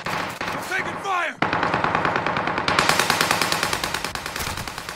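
Rapid bursts of video game gunfire, a rattling automatic weapon firing in a steady rhythm after a brief swoosh, loud and close.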